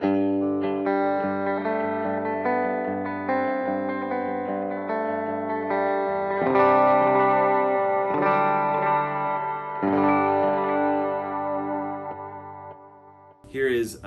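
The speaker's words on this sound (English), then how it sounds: "And here's with his plate reverb." Guitar played through a Strymon Timeline pedal with a plate reverb preset, a run of sustained chords blooming into a lush, shimmering tail, steady and loud, cut off by a brief noisy burst at the close.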